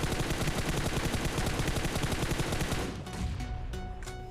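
Rapid M4 rifle fire in the video game PUBG, a dense string of loud close shots lasting about three seconds, followed by a few scattered single shots and quieter game sounds.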